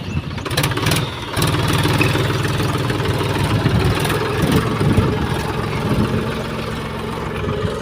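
A tractor stuck in a muddy field runs its engine: a sputtering start gives way to a steady, loud low chugging idle with slight revving, close by and without talk.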